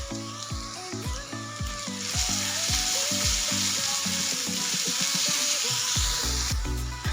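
Onion with a ginger, garlic and green chili paste sizzles loudly in hot oil in a pan for a potato bharta, a steady close frying hiss while a spoon scrapes and stirs rhythmically, with background music.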